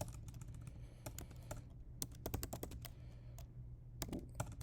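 Fast typing on a computer keyboard while writing a patient history and physical note, crisp close key clicks in quick irregular bursts with brief pauses, low background hum, no talking.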